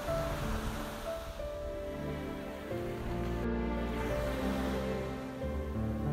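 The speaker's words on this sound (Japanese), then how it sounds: "波が音を立てる。" Ocean waves wash onto the white sand of Hamada beach on Tanegashima in a continuous, fairly soft surf hiss with no voices.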